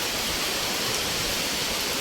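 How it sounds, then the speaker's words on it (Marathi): Heavy monsoon rain lashes down in strong wind near Ratnagiri, a dense, loud, unbroken roar of water and gusts with no distinct drops or pauses and no voices. "वारा सुटला किती बघा भरपूर जोर झाला आणि तेवढाच पाऊस पण आलाय"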